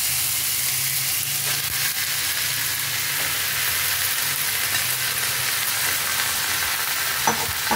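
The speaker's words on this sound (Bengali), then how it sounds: "মশলাটা ভাজা ভাজা হয়ে আসছে, এখন এর মধ্যে আমি সমস্ত কলমি শাকের টুকরোগুলো দিয়ে দিলাম।" Pieces of water spinach frying with spices in a pan, a continuous loud sizzle and hiss with occasional stirring scrapes, close and steady throughout, no voices.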